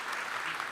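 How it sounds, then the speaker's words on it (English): A short burst of audience applause at a Java programming conference talk, a fairly faint, even patter of clapping with no voices. "I think we should give an applause to those people for that courage,"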